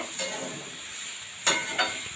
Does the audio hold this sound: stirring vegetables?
yes